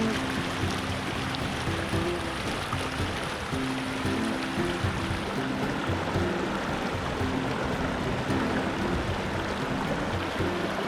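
Creek water at Fossil Creek Park flows steadily, making a constant, fairly close rushing and gurgling wash without any talk over it.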